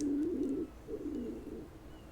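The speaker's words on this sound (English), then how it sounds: "Is there a bird in the house?" Dove-like bird cooing inside a house, two soft rolling coos in a row, faint and alone in a quiet room.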